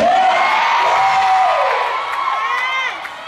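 A crowd cheers and shouts loudly, with high whoops and sustained yells rising and falling together, close and continuous for a few seconds.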